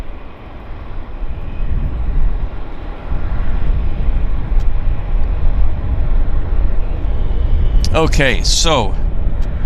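An Air Canada Airbus A321 taxiing out, a loud steady engine rumble and roar close by at an airport, with someone talking briefly near the end.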